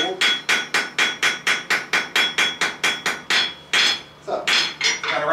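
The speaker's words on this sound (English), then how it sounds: "this is a technique called hammer finishing. And hammer finishing will actually get rid of a lot of your hammer marks. You need to do little taps and hit it cold." Light hammer taps on cold metal during hammer finishing at a forge: about twenty quick, evenly spaced, ringing metallic strikes close by, with the rhythm briefly faltering near the end before the tapping resumes.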